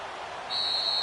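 Referee's whistle in an American football video game on PS4, a single sharp steady tone starting midway and held to the end over a soft background hiss of crowd noise.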